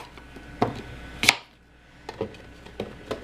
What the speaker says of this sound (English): Let me slice these apples up a little bit more.